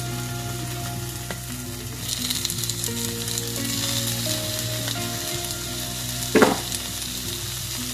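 Onion sautéing in a pan with tomato and crushed ginger and garlic, a steady close sizzle throughout with occasional stirring scrapes and one brief louder clatter near the end.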